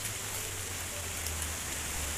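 Storm rain from Cyclone Remal falls in a steady, even hiss, with a faint low hum underneath and no voices.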